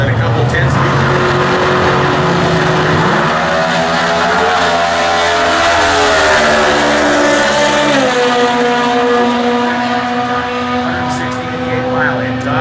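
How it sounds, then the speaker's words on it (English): A comp eliminator dragster with an advanced chassis and a 196 cubic inch Chevy engine races at a national drag racing meet, its loud high-revving engine climbing in pitch through gear changes. Talk runs under the engine. "Advanced chassis dragster with a 196 cubic inch Chevy engine."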